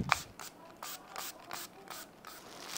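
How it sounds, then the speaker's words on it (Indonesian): Spray bottle misting a baby tummy time pillow, a run of about six soft hissing spritzes in an even rhythm, close but quiet, with no talk. "Oke, kita semprot dulu."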